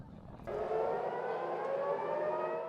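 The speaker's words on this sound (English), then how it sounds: "Air raid sirens sounded across Tel Aviv early Friday" A civil defense air raid siren sounds across Tel Aviv, starting abruptly and holding a steady, sustained wail that carries faintly at a distance.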